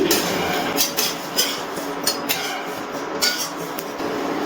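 Lightly roasted whole spices being tipped from a kadai into a metal plate or bowl, a series of small clinks and scrapes of utensil on metal with a quiet kitchen background.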